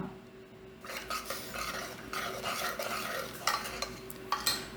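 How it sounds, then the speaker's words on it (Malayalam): A spoon stirs a thick traditional Kerala curry in a pot just after the ground paste goes in, a quiet series of scraping and clinking strokes against the pot with faint sizzling, close and alone. "അപ്പോൾ നമ്മൾ അരച്ചതും പാർന്നു ഇനിയിപ്പോൾ നന്നാക്കി ഇളക്കി കൊടുക്കാം"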